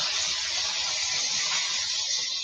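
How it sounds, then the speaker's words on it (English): Meat or fish frying in a home kitchen gives off a light, steady sizzle, a soft, even hiss with no pauses and no talk over it. "Once everything is the right temperature and it's all the way cooked, it's just going to be a light sizzling sound."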